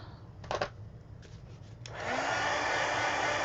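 A hair dryer used to dry colouring on paper switches on after a few handling bumps and then blows in a loud, steady, close roar to the end.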